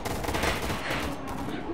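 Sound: AK-47 gunfire in a video game

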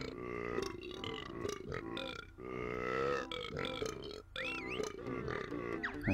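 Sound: character burping in the video game Banjo-Tooie

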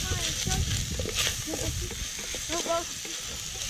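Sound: small prawns being stirred into a sizzling pan

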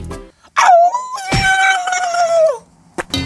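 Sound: voice imitating a fox howl

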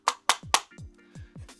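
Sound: tapping a cheap plastic toy drone

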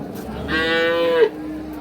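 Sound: cow mooing

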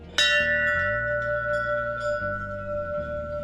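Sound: temple bell being rung

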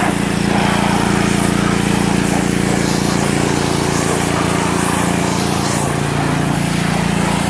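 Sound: pressure washer cleaning car wheels

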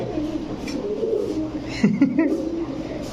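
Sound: pigeons cooing

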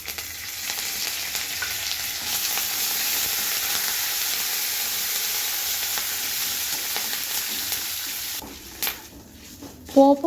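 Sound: cumin, mustard seeds, dried chili, curry leaves frying in oil

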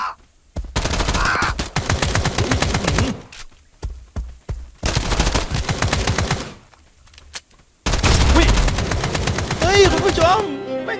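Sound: rapid automatic gunfire in video game Escape from Duckov

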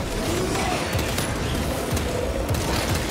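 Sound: plasma pistol firing in video game Space Marine 2

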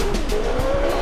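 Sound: race car driving and skidding in a Formula car stunt video game

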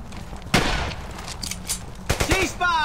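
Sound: machine gun gunfire in video game Brothers In Arms Hell's Highway

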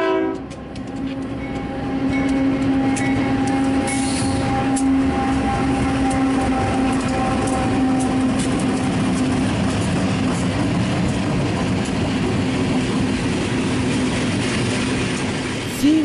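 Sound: freight train passing

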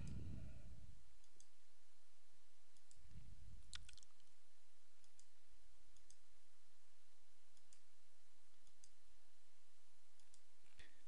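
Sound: computer mouse clicking tools off in Photoshop

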